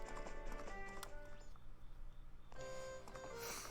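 Epona's hooves clip-clop in Majora's Mask 3D, a steady game-audio trot running throughout over background music.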